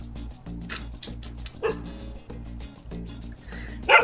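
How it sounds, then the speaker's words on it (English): A dog barks repeatedly in short yips over a steady background hum, with a louder, sharper bark near the end. "Floppy barked and barked."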